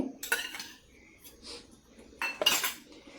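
A spoon clinks against a bowl while yogurt goes into a puffed rice cutlet mix, a few bright metallic taps and scrapes in two short bursts separated by quiet, close and fairly soft.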